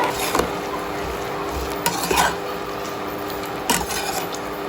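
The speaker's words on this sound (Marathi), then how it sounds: "आपला कांदा थोडा भाजला की आपल्याला याच्यामध्ये आल्याचे काप देखील घालून घ्यायचे आहेत त्यामुळे आपला कांदा व आलं एकदम भाजलं जातं" Onion and ginger slices roast in a pan for Kolhapuri chutney, a steady low sizzle running throughout with a few scraping stirs of a spatula standing out near and clear.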